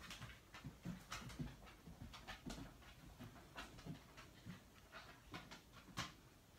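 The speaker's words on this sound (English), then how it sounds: "Gus, lay down, puppy." A dog pants rapidly with faint whimpers mixed in, quiet and close, a steady rhythm of short breathy puffs without speech.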